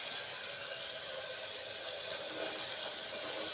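Broad bean pods, flat hyacinth-type beans, are rinsed under a running kitchen tap, making a steady, full hiss of flowing water that continues unbroken throughout with no voices.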